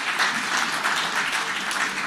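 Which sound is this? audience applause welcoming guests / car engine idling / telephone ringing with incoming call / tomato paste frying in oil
audience applause welcoming guests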